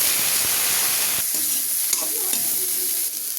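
Eggplant and fenugreek greens frying in a pan with panch phoron and green chilli, a steady close sizzle with stirring scrapes and occasional utensil knocks, no talking.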